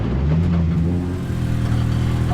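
A Honda CRX engine revving hard in third gear, a steady, loud, droning mid-pitched roar heard from close by, its pitch climbing slightly as it pulls.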